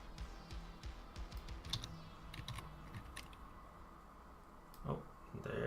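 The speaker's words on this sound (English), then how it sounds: "There's some typing in there." Someone types on a computer keyboard in short irregular bursts of close, soft clicks, pausing now and then, with a quiet room tone underneath.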